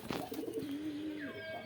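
Pigeons at a home loft give a close, clear cooing call, a low drawn-out warble lasting over a second, with faint bird chirps behind and no talking.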